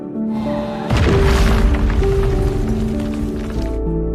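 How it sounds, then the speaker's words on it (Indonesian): An explosive ball blasts through a wall in a film scene, a loud sudden boom that rolls into a long rumbling roar of collapsing debris over a low background hum, lasting several seconds. "Milis pun menggunakan bola peledak itu untuk meledakkan tembok tersebut."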